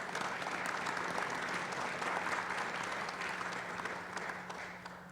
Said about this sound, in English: Can we give Dr. Zhao a round of applause?